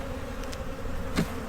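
Honeybees buzzing at an overwintered hive in a spring apiary yard, a soft steady drone with a few louder passes as individual bees fly close.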